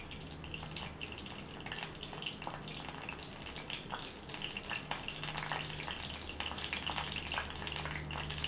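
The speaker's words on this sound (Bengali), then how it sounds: "তেল দিয়ে দিয়েছি, এবারে শুকনো লঙ্কা দিয়ে দেবো" Dried red chillies fry in hot oil in a home kitchen, giving a steady, low crackling sizzle with scattered small pops, close and continuous throughout, no talking.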